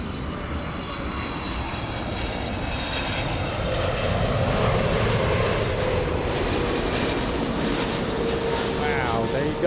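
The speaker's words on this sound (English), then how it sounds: "Big 777 flying in from Heathrow." A Boeing 777 airliner flying in to land at LAX from Heathrow, its engines producing a steady loud roar with a slowly shifting whine that swells as it passes close by, and people talking over it.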